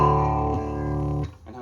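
A single sustained, buzzy distorted electric guitar chord in an early-1990s death metal tone rings out, then is abruptly cut off and decays.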